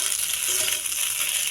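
Chicken pasta stirred in a hot pan, a steady close sizzle of frying with soft scraping and mixing running evenly throughout the short moment.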